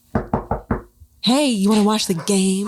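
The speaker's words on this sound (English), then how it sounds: "I heard knocking, Mommy!" Four sharp, evenly spaced knocks ring out close and loud, then a person starts talking right after.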